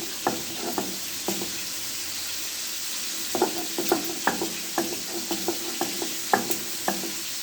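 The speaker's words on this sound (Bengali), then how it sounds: "এদিকে আমার মাছটাও ভাজা হয়ে যাচ্ছে মাছটাও উল্টে পাল্টে দিতে হবে" Hilsa fish frying in a pan, a steady soft sizzle punctuated by repeated light knocks and scrapes as the pieces are turned, close and moderately loud with no talking.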